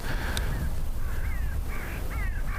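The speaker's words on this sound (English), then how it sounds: "ravens flapping above you" Ravens calling high over the mountain fells around Scafell Pike, a run of repeated hoarse croaks at middle distance against a steady open-air hush.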